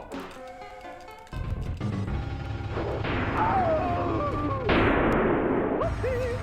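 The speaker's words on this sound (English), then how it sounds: "I love that explosion sound effect on the Super Nintendo." Explosion effect from Mortal Kombat 2 on the Super Nintendo: a sudden loud crashing blast that rumbles on continuously, with a second burst partway through and game tones layered over the noisy roar.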